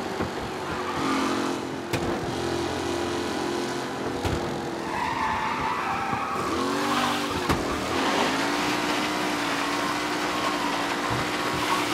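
Race cars speed around a track in Mafia: Definitive Edition, a steady close roar of engines with shifting revs, squealing tires and a few sharp knocks cutting through.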